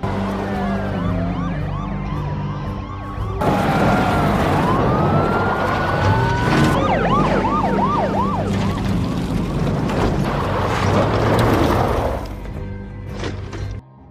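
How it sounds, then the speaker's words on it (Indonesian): Police car sirens wail loudly and continuously during a film car chase, with engine roar beneath and an abrupt jump in intensity partway through. "Saat bertemu iring-iringan polisi, Tanner menarik perhatian mereka untuk mengejarnya ke lokasi yang jauh dari lokasi pelarian adiknya itu"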